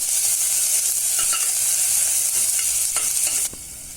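Two small ingredients fry in a pan for masoor dal curry, a bright continuous sizzle with a few spatula scrapes, dropping quieter near the end.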